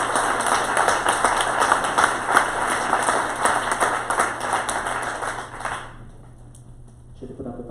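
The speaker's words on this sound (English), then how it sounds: "please give a massive round of applause to Jessica Daly in the back in the sound booth" Audience applause for the sound booth technician at a keynote talk, a dense steady wash of clapping that stops abruptly near the end, leaving faint room noise.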